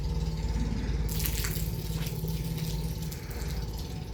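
Water trickling and dripping out of an upturned pot through a handkerchief in a school science experiment, a steady wet patter that brightens and splashes more after the first second, with a low background hum.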